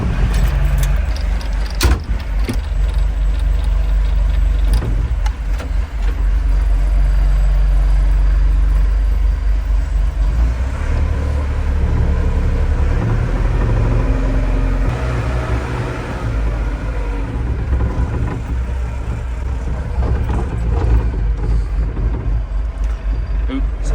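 A telehandler's diesel engine runs steadily with a loud low drone, close and continuous, with occasional clunks and knocks over it.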